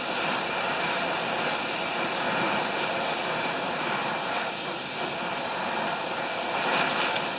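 A torch heats an exhaust manifold around a broken collector stud, giving a steady, close, roaring hiss that holds at an even loudness throughout with no talking.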